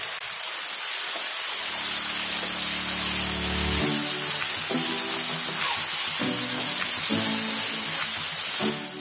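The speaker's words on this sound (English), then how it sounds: "Add 1 teaspoon of ginger garlic paste and saute until the raw smell goes away." Ginger garlic paste sautéing in a hot pan over a high flame, giving a loud, steady sizzling hiss that lasts throughout, with a few faint clinks underneath and no voices.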